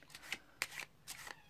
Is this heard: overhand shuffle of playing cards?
yes